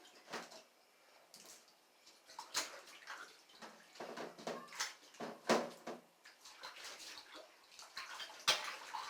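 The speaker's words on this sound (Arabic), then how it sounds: "وهتشطفيها بقى ايه كده من بره ومن جوه" Running water splashing over raw chicken with lemon as it is rinsed in a sink, a close, steady wash broken by irregular splashes and handling knocks, with no talking.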